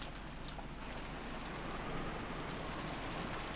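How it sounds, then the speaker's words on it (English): A steady rain sound effect from the Umineko visual novel game, a soft, continuous patter of falling rain with a faint low rumble beneath it. "What is this, rain?"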